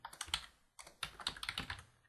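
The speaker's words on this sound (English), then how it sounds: "I'm having a little trouble typing here." Typing on a computer keyboard while entering data into a spreadsheet, bursts of close, crisp key clicks with a short pause between them.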